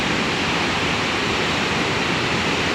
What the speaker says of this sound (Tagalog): Kakatakot yung current ng tubig